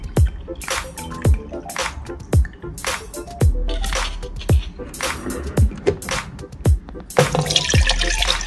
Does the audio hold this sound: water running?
yes